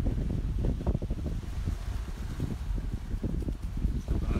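Strong wind buffets the microphone in continuous low rumbling gusts on a Boracay beach with windsurfers, with a faint wash of water and surf in the background; no one speaks.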